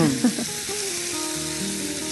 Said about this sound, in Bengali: আর চিকেন তো আমি ভেজেও নিচ্ছি